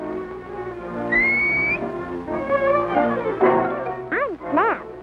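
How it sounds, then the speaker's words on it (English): A boy whistles to call his breakfast pals in a classic cereal commercial, a short rising whistled note followed by a few swooping whistles under light background music. "they come every morning as soon as I whistle"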